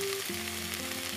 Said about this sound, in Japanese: ルッコラは硬そうな部分は油でソテーに。